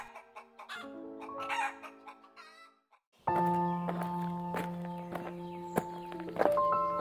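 Chickens cluck and a rooster crows close by in a rural yard, the calls broken by a short pause before a louder, busier stretch of clucking with scattered thumps.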